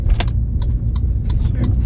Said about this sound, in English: we're in the Saab driving